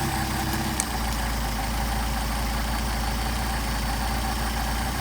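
A Mercedes 190SL fitted with rebuilt Solex carburetors idles steadily up close, a continuous low, even rumble with a single faint click near the start.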